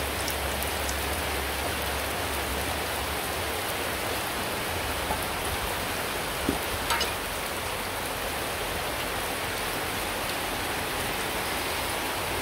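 Heavy rain pours down steadily outdoors on a rainy day, a dense continuous hiss of drops hitting surfaces, close and even throughout with no talking.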